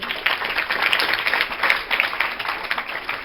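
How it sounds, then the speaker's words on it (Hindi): Audience of students at a career counselling seminar for 9th and 10th graders clapping hands in steady, dense applause lasting the whole moment, fairly loud and continuous without talk. "एक बार फिर से ताली बजाइए।"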